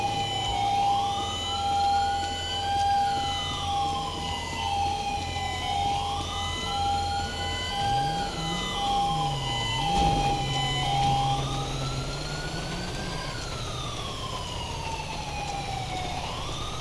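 A rising and falling ambulance siren wails steadily in a GTA 5 LSPDFR police game scene, loud and continuous with traffic rumble underneath and a shift in siren pattern partway through.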